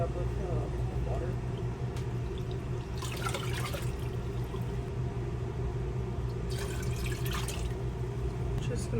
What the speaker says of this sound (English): I'm gonna slowly fill this and fill it up with water.